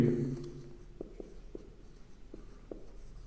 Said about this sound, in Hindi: तो इसको भी हम लोग लिख लेते हैं फ्रेंच मिलिट्री